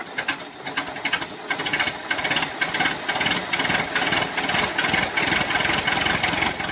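A small toy tractor motor whirs continuously with a buzzing, rattling drone and rapid pulsing, close and fairly loud, running steadily throughout without any talk.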